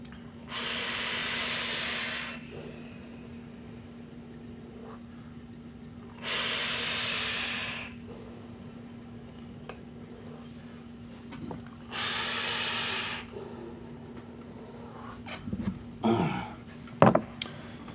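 Three airy hiss bursts, each about two seconds, from pulls on a 252 Box Mods Claymore box mod with wide-open airflow, separated by quiet gaps, followed by a few faint clicks and handling noises near the end.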